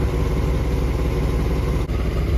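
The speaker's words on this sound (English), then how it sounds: "There's a very annoying exhaust leak up there." A steady, loud engine idle with a rough, puffing rattle from an exhaust leak, continuous throughout without talk.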